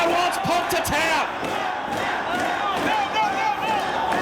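A pro wrestling arena crowd roars and chants, urging a wrestler caught in a submission hold to tap out, with loud sustained cheering and rhythmic yelling that swells throughout.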